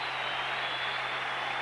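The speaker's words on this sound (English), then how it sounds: "Tim Leary, who should receive an outstanding round of applause as he leaves, and he does" Baseball stadium crowd at a 1991 Mariners–Yankees game applauding pitcher Tim Leary as he leaves the mound, a steady broad wash of clapping and crowd noise throughout, no voices standing out.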